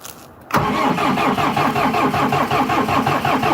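A 50 hp tractor engine cranks briefly without a glow plug, then catches and settles into a loud, steady rhythmic diesel chug, close and alone.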